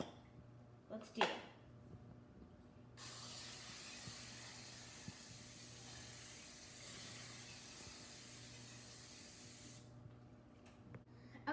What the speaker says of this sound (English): So you're going to need to spray your pan.